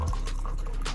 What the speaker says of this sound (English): Take that off, pour it in.